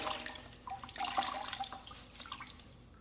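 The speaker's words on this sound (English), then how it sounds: "Just dripping." Water trickles and drips steadily, like a faucet running into a sink, fairly quiet and close.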